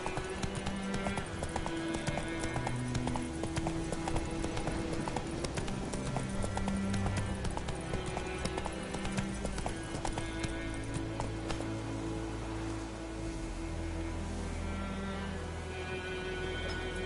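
Roach the horse's hooves clip-clop in a steady, continuous trot in a video game, under a layer of game music.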